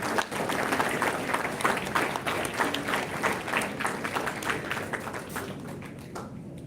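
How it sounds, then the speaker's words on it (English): A conference audience at the Brahmanda 2025 event breaks into a big round of applause welcoming a speaker, steady dense clapping from a large crowd that fades out near the end, with no voices over it. "with a huge round of applause"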